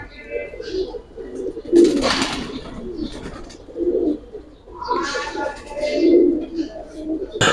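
Giribaz high-flyer pigeons coo in soft, repeated low throaty calls nearby, mixed with someone talking throughout.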